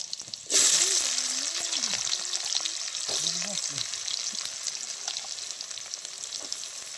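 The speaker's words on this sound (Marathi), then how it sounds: "तेलामध्ये आता पहिल्यांदा मोहरी, जिरी, लसणाची पात आणि आता कांदा टाकते भाजायला" Onion dropped into hot oil with mustard seeds, cumin and garlic greens bursts into a loud, close sizzle that keeps crackling steadily, with a faint voice murmuring briefly underneath.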